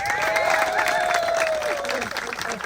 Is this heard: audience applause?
yes